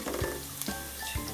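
Ginger and garlic sautéing in a pan until brown make a short, quiet, steady sizzle with a few soft stirring scrapes.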